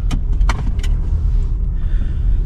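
An Uber ride in the Philippines, heard as a steady low rumble of the car moving, with a few clicks and taps near the start and no talking.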